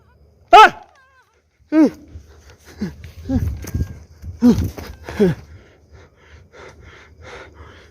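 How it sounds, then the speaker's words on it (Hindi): An unseen animal growls and snorts nearby: two sharp, loud bursts with a pause between them, then a run of rougher, breathy rumbles that fade into low, uneven noise. "गुर्राने की आवाज आई है"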